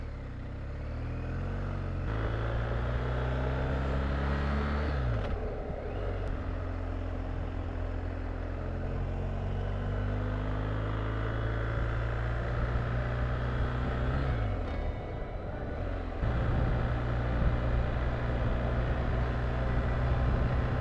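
A Honda NC850 motorcycle riding along a road on a hot day, its engine a steady loud drone with gear shifts and pitch changes as it accelerates and settles, wind noise running throughout.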